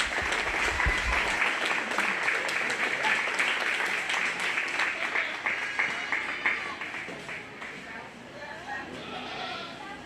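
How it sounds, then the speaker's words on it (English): Audience applause for the children at a 4-H/FFA goat and goat kid show, steady clapping that slowly thins out, with goats bleating and voices in the background. "Go ahead and give these kids all a big round of applause"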